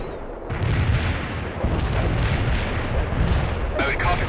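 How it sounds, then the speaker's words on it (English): Mortar artillery in the video game World in Conflict pounds away as a dense run of deep booms and rumbling impacts, loud and continuous, layered over battle noise with a sharper burst near the end. "We're aiming the mortars right now."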